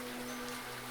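Rain pours in a video game during stormy weather, a quiet even wash of falling drops with a steady low tone beneath, uninterrupted and without speech.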